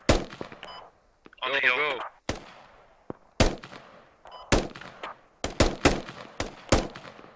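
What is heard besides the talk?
gunfire in the video game Squad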